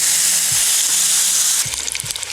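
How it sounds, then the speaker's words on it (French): Steaks fry in a hot pan with a loud, continuous close sizzle, then a few sharper crackles and spatters toward the end. "ce qu'on va faire, eh bien, c'est la cuisson des steaks"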